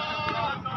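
A breeder male goat at a livestock market gives a short, wavering bleat that is close and moderately loud, lasting under a second.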